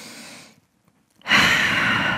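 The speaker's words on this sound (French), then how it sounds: "Grande respiration encore ici." A deep breath during a gentle vinyasa yoga practice: a soft exhale trails into near silence, then a long, close, airy inhale rises and holds to the end.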